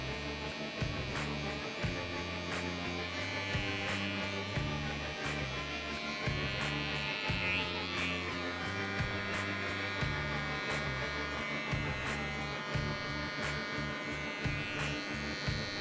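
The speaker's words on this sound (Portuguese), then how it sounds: "E a máquina de contorno." A barber's electric contour trimmer buzzes steadily while a long beard is trimmed, a close, continuous motor drone that pulses slightly as the blade moves across the hair, with no talking.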